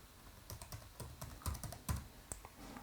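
Quiet, close keystrokes on a computer keyboard come in an irregular run of light taps and a few firmer presses over a few seconds while a network name and password are entered, with no voice.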